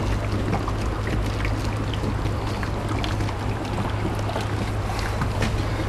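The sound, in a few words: HHO gas bubbling out of the cell into water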